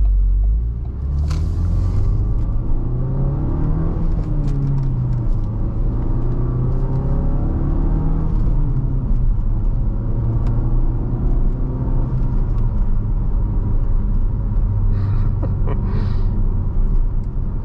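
A used Ford Focus RS pulls away on a bumpy road, its engine rumbling loud and close from inside the cabin, with rising and falling revs through gear changes and a few thumps over bumps.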